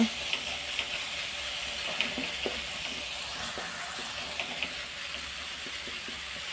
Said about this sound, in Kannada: ಚೆನ್ನಾಗಿ ಸ್ವಲ್ಪ ಫ್ರೈ ಮಾಡುವ